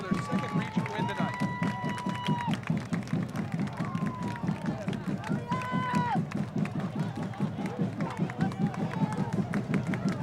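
Cheering crowd of Villa Rica Hurricane fans on their feet at a high school football game at Sam McIntyre Field, a steady roar of voices and clapping with whistles rising over the din throughout.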